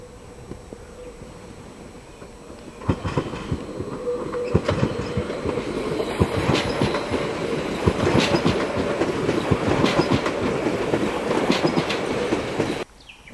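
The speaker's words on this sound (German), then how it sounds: "An der Ausweichstelle vor dem Schuppen wird die Lok umgesetzt und drückt dann den Zug zur" A narrow gauge locomotive at Nagycenk, Hungary, pushes its train toward the terminus with steady clickety-clack from the wheels and rumbling carriages. A chirring of insects runs under the rail noise, and the sound breaks off abruptly at the end.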